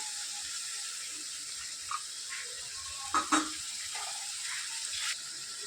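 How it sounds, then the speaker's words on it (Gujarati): Steady sizzle of masala frying in a pan for a Gujarati pea and potato curry, with water splashed in bringing brief louder hissing bursts midway and near the end; moderately quiet and close, no voices. "હવે થોડું પાણી ઉમેરીશું।"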